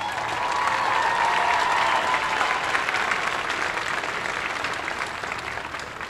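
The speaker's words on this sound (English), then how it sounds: "let's give them a round of applause" Sustained applause from a large crowd at the Greeley West High School 2018 graduation ceremony, a dense, steady clapping that holds for several seconds and slowly tapers off.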